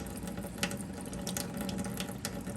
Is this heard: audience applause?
no